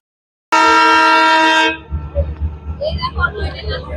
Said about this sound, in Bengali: দার্জিলিং এ হিমালয় রেল স্টেশনের ঐতিহ্য টয় ট্রেন।